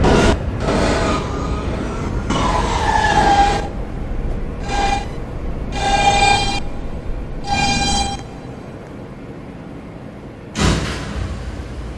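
A New York subway R train bound for Queens, heard in bursts of rumbling carriage noise and squealing wheels broken by quieter gaps, then a sharp loud burst near the end.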